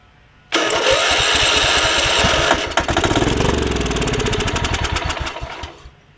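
A Kohler Command engine on a Craftsman hauler rear-tank rider mower cranks over loudly and steadily, with a rapid rhythmic chug that runs about five seconds and then slows and fades without catching.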